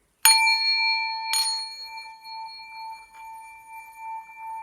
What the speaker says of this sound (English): I have a sound bowl